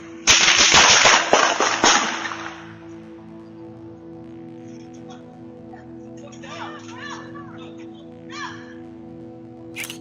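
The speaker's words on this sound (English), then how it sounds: "The footage confirmed that the sounds were indeed gunshots" Gunshots ring out in a residential neighborhood, picked up by a Ring doorbell camera: a rapid, loud volley of sharp cracks over about two seconds, followed by quieter ambient noise with faint distant voices.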